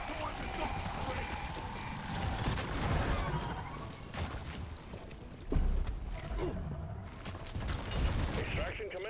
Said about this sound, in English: Drill dozer running at full steam.